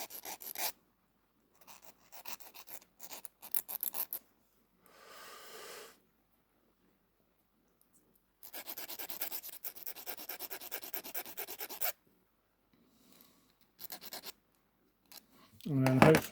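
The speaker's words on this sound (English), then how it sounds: "I've got to do then is just gently file it off." Metal being filed on a small Matchbox scaffolding truck during a strip down, intermittent close rasping strokes in short bursts separated by quiet pauses, with faint breathing.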